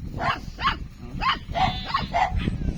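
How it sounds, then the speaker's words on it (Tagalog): A dog barks about six times in a quick, uneven series, fairly close, with no clear talk. "Ay, aso ko yan."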